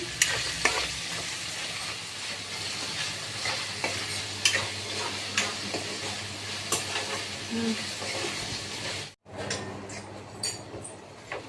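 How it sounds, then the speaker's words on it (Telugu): Raw green banana curry frying in a pan while being stirred, with steady sizzling and repeated scraping and clinking strokes throughout, a brief dropout near the end, no talk. "మధ్య మధ్యలో అయితే ఇట్లా కలుపుతూ ఉండాలి ఫ్రెండ్స్ లేకపోతే మాడిపోతూ ఉంటుంది మనకి ఇది మెత్తగా అయ్యే వరకు అయితే ఫ్రై చేసుకోవాలి"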